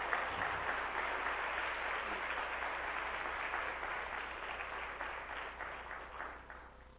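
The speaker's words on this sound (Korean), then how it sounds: "나오실 때 할렐루야로 환영하면서 크게 박수하겠습니다" A church congregation at a Korean Wednesday worship service claps together in welcome, a steady, full round of applause filling the sanctuary for several seconds before slowly tapering off.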